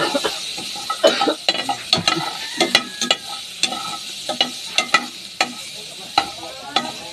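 Pork in shrimp paste (binagoongang baboy) fries in an oily pan while a utensil scrapes and stirs it in regular strokes, each a crisp scrape over a constant sizzle.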